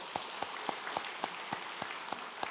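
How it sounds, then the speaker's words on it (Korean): Church congregation clapping in a steady, even rhythm of single claps, moderately faint and fairly distant, with no talk over it. "그래서 뭐 박수 한번 치십시다."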